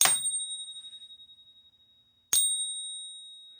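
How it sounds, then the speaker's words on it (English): A bicycle-style bell dings twice, each bright ring decaying slowly into silence, the second strike coming a couple of seconds after the first. "Ringing the bell."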